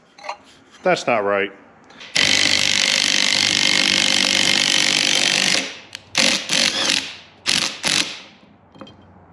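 Remanufactured water pump from a Chevrolet Blue Flame Stovebolt Six with bad bearings, a harsh grinding rattle for several seconds as it is turned by hand, followed by shorter scraping bursts, with someone speaking briefly before.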